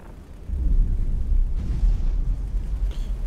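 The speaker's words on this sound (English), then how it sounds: "Try those explosions." Deep, rumbling explosions in the space game X4: Foundations boom one after another, forming a continuous low roar with crackling bursts.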